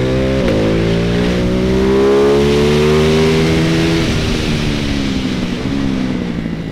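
Ducati Hypermotard 698 Mono single-cylinder motorcycle engine pulling hard on a road, a loud close drone climbing through the revs with a few gear-change dips.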